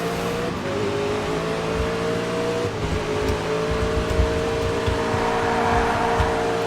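A race car engine in TOCA Race Driver 3 at Queensland Raceway holds a loud, steady high drone through a turn, with other cars' engines layered close around it and no voices.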